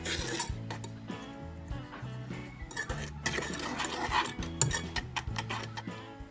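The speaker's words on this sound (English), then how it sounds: "I'm gonna whisk those together as that butter melts" Butter and sugar are whisked together in a saucepan as the butter melts, with a steady run of metallic scraping and clinking strokes, close and fairly loud, no talking.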